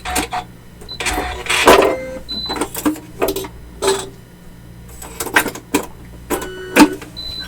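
The lift-out needle plate is being changed on a Janome Continental M7 sewing machine, a series of close, sharp clicks, snaps and rattles in irregular bursts, with a few brief electronic beeps.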